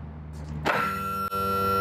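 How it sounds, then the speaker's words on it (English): An outboard motor's power trim tilts the motor up, an electric pump whining on abruptly after a quiet start and holding a steady humming tone with a brief dip partway through. "Now I'm just going to trim the motor up to make it easier to get to the Phillips heads on the bolts from underneath"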